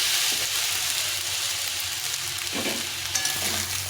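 Leftover cooked rice stir-fried in a pan with a spoonful of vinegar, giving a steady close hiss of frying with a few brief scraping stirs toward the end, no voices.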